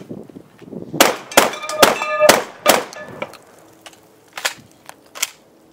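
A Benelli M2 shotgun fires in a quick string of sharp, ringing reports, about five close together, followed by two more spaced shots, loud and near with no talk.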